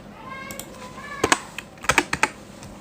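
Someone taps a computer keyboard, a few scattered light clicks followed by a quick cluster of sharper keystrokes, close by and without talk.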